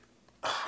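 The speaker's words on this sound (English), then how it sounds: "I hate it when I cough." One sudden, loud, harsh cough bursts out after a quiet moment and holds to the end.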